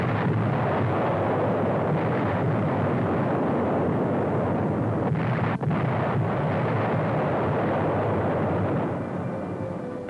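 Heavy World War II artillery fire pounds German-held San Pietro in the Italian campaign, a dense, continuous roar of booming explosions that stays loud throughout.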